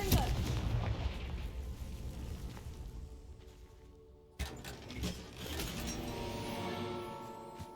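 A Confringo fire spell blasting in a Hogwarts wizarding video game, with a heavy booming burst at the start that fades, then a second sharp blast midway followed by rumbling game sound.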